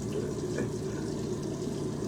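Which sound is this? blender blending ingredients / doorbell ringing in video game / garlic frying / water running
water running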